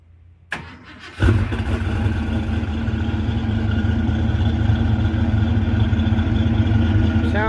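A car engine with a freshly repaired exhaust cranks and starts, then settles into a loud, steady, rumbling idle close by, with a voice speaking briefly over it.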